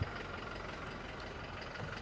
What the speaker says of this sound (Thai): เดี๋ยวลองฟังเสียงเครื่องยนต์ก่อนหน่อยกัน